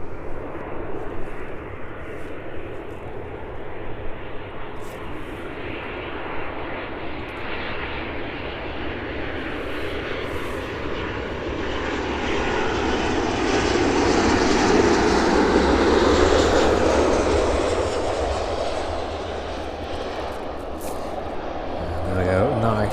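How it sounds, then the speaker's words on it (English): An airliner lands at a busy airport with a harsh touchdown, its engine roar steady and loud, swelling near the middle and again at the end, while a voice talks over it. "Harsh touchdown there, waking everybody up on board as that one safely arrives in."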